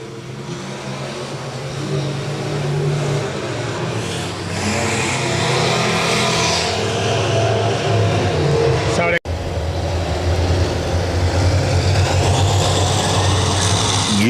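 Race cars at Electric City Speedway, a dirt track in Butler, Missouri. A dense, continuous engine roar from the field accelerating, heard at a distance with an announcer talking over it.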